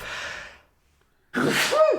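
A single loud sneeze bursts out close by after a short breath and a moment of silence.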